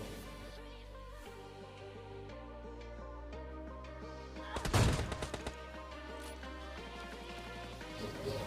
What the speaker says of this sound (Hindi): तो इस बंदे को मैं एक बॉडी शॉट देता हूँ